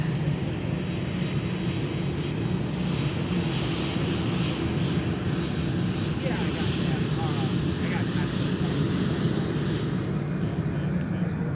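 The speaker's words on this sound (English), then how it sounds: "we've got another American outbound departure with a 737-800. Dallas, Fort Worth." An American Airlines Boeing 737-800 departs MSP for Dallas Fort Worth with a constant, loud, broad engine roar that holds steady throughout, with a voice faintly underneath.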